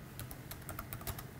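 Quick, uneven keystrokes on a computer keyboard while a tender dossier is filled in, a close burst of light clicks with no voices.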